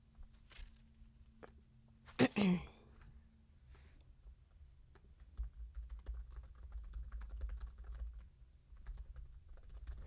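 Faint, quick patter of fingers typing on a computer keyboard comes in scattered bursts, growing denser in the second half, with a brief louder knock near the start and a quiet room behind it.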